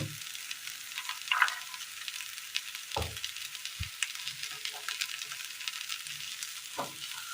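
Garam masala frying in oil in a pan while cooking a Kerala recipe: a steady, fairly quiet sizzle with a few soft knocks and stirring scrapes.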